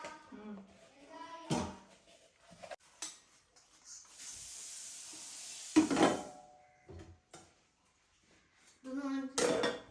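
Dishes being washed by hand in a home kitchen: scattered clinks of pots and plates and a stretch of running water, with someone talking between the sounds.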